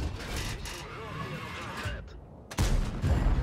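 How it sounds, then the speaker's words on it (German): A tank cannon fires in World of Tanks gameplay, a sharp heavy blast arriving after rumbling battle noise, with someone talking over the scene. "Ah, da ist natürlich ärgerlich, dass die erste Granate da in den Boden fliegt"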